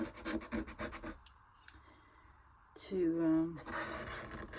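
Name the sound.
scraping with a palette knife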